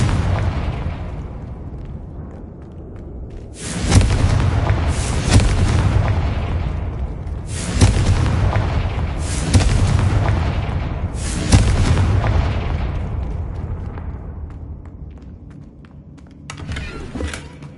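Repeated Confringo blasting-spell explosions in Hogwarts Legacy, a series of loud, booming bursts roughly every two seconds, each followed by a rumbling decay, with no talking.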